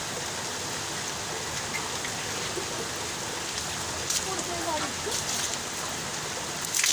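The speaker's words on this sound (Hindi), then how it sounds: "बहुत ही तेज़ बारिश शुरू हो गई" Heavy rain pours steadily under dark storm clouds, a dense, even hiss of drops with a few brief spatters and knocks near the end.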